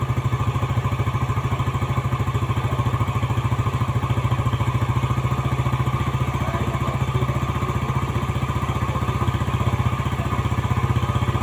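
A Yamaha Jupiter Z motorcycle engine, freshly rebuilt, runs steadily at close range while its RPM is being adjusted, giving a continuous rhythmic low idle with light mechanical clatter throughout.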